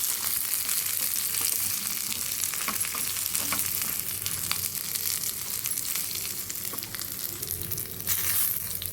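Coriander seeds, cumin and dried red chilies crackle and sizzle in a hot pan for a ridge gourd chutney, a dense continuous frying hiss with scattered stirring scrapes and no talking.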